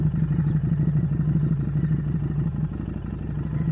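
Motorcycle engine idling steadily with a low, even throb as the clutch is let out through the friction zone and the bike begins to roll, a close, continuous mechanical hum with light clatter.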